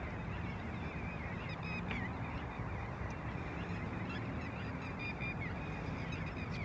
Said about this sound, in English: Sounds like there's a bit of bird action going on.